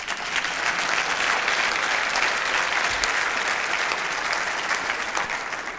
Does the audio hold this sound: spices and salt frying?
no